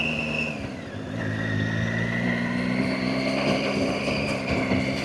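A motorcycle rides onto loose gravel on a scenic road near Ojai and Lake Casitas, its engine droning steadily and loudly close to the mic, with continuous rumble and crunching road noise beneath and no talk.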